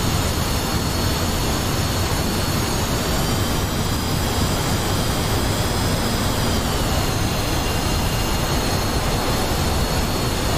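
A-10 Warthog jet engine in a video game roars loudly and steadily throughout, a constant broadband rumble with a high whine and no voices.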